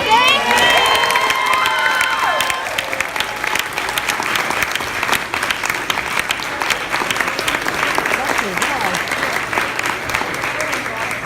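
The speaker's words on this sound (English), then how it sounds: "Can everyone please applaud?" A large crowd claps loudly and continuously, with cheers, whoops and children's shouts rising early before settling into sustained applause.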